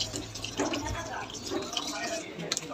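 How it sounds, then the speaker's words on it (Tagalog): Vinegar poured into a pan of spicy squid adobo, a steady liquid splash and trickle heard close up with faint kitchen background. "Lagyan yung suka."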